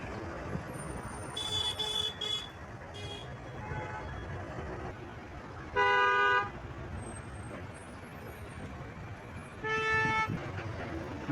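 Car horns toot in a stalled traffic jam on a city road heard from a TGSRTC bus, two or three clear honks standing out over a steady rumble of idling traffic, with some talk in the background.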